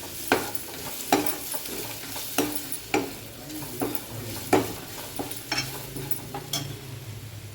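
Onion, tomato, chili powder and turmeric sauté in a pan for a traditional Tamil sukku milagu kuzhambu, with a steady sizzle under repeated sharp scrapes and clacks of a spoon stirring at roughly one-second intervals.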